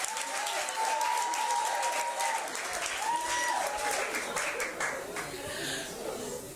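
Audience applause for Randolph Leblanc at an International Women's Day celebration, a steady wash of clapping that lasts throughout, with brief voices and some laughter mixed in.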